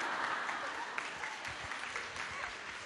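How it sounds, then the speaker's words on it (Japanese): An audience at a fan meeting in Japan claps steadily, a fairly even round of applause with scattered sharper claps standing out, somewhat distant and moderate in level. "もう一度大きな拍手をお送りください。"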